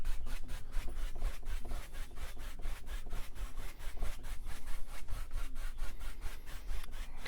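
A paintbrush scrubs across canvas in quick crisscross strokes while painting a mountain, giving a steady, close rhythm of scratchy brushing that continues for several seconds with no talk.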